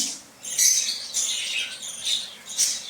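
Pet birds and young chicks chirp in short, high bursts that come and go, fairly close and clear with no talk over them.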